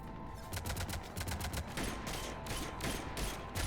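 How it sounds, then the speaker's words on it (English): A Scorpion pistol fires rapidly in Mass Effect 3, a dense burst of sharp, close shots in quick succession over a loud, steady combat din. "was that the Scorpion Nyreen was firing like that?"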